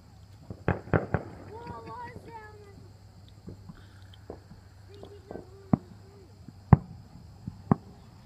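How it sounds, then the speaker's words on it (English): Fireworks bursting in the distance, several sharp pops and bangs scattered irregularly, some close together, with people talking between them. "there was a lot of fireworks at the same time."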